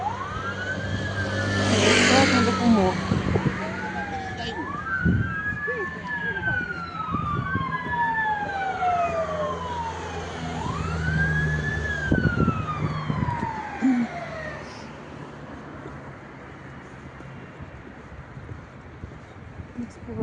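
Wailing police and ambulance sirens sweep up and down repeatedly as they pass along the Vltava embankment in Prague, loud then fading into the distance, with traffic noise and voices underneath.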